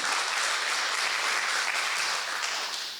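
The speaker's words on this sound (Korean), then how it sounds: "여러분 큰 박수로 맞아주십시오." An audience at an expert seminar gives sustained applause to welcome a district head to the stage, dense steady clapping that holds throughout and tapers slightly at the end.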